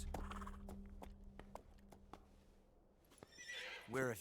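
Horse neighing in a video game: a short, high, wavering whinny near the end, following sparse clicks and a faint low hum, with a voice speaking briefly.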